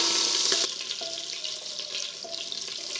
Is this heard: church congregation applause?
no